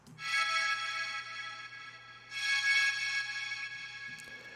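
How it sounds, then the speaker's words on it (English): An Ableton wavetable synth plays alone with no processing, giving two long bright sustained chord swells over a low hum, each one rising and then slowly decaying, with no talking. "I first used a wavetable synth from Ableton"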